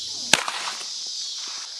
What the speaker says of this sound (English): I'm going to use my 40 caliber